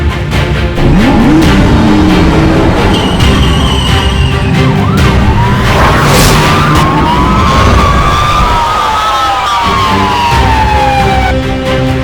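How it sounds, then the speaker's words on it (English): Police cruisers with wailing sirens chase a speeding truck through city streets, several loud sirens rising and falling in overlapping sweeps over a roaring vehicle rush close by, no talking. "watching the police cruisers closing in behind his speeding truck, sirens wailing in relentless pursuit"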